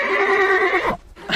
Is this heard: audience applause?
no